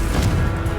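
Confringo spell blast from Hogwarts Legacy, a single short, heavy explosive burst with a thudding low impact, loud and brief.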